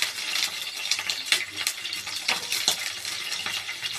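Green chilies sautéed in a pan give a steady close sizzle, with utensil scrapes and stirring clinks scattered through it at an even level.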